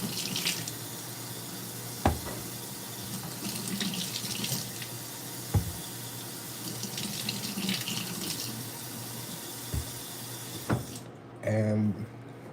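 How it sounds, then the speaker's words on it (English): Food rinsed under a running kitchen tap, a steady stream of water splashing into the sink with occasional sharper knocks and clatters, ending with a short louder burst. "They look a little dry, so I'm gonna have to rinse them"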